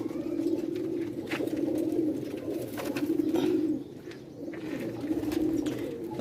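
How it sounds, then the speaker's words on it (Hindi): A flock of white-necked Sialkoti pigeons coos continuously nearby, a soft rolling drone of many birds with slight swells and one brief dip, no voices present. "चिट्टे कनाले कबूतर"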